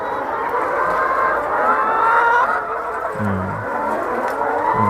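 A sick layer hen with falling weight makes low, weak clucking sounds in short bursts inside a farm shed, heard close over a steady background hum.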